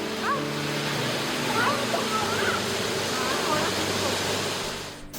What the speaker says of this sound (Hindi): दोस्तों झरने का शोर इतना था कि हम आपस में भी बात नहीं कर पा रहे थे